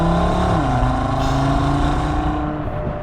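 Audi RS3 engine droning loudly from inside the cabin on a track, its pitch shifting with throttle and a steady road rumble underneath.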